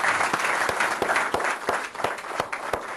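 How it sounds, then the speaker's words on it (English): A full room applauds at a business forum, a dense steady wash of many hands clapping at close range, continuing without letup and with no voices over it. "Round of applause."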